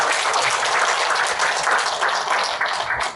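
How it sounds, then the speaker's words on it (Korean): An audience at a launch ceremony in Gwangju for the 160th anniversary of Koryo-saram migration gives a loud, close round of dense, continuous clapping that fills the whole moment. "본인 나를 위해서 큰 박수를 보내주시기 바랍니다"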